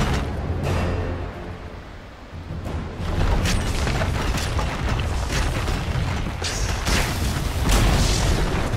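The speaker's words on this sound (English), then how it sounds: "Dire's middle tower has fallen." A Dota 2 tower is destroyed amid heavy in-game battle, with booming, crackling explosion bursts that swell and repeat over dense, continuous action noise.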